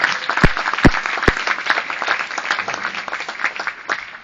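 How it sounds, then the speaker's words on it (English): Audience applause for an editor at a film premiere in Washington DC, a few sharp nearby claps up front, then a dense, steady patter of many hands that gradually thins out. "Let's have a big round of applause for her."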